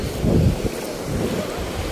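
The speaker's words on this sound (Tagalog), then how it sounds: "Ang daming wave." Ocean waves break and wash steadily along Kasapsapan Beach in Casiguran, Aurora, a continuous rushing surf that swells a little early on, mixed with gusty wind noise on the microphone.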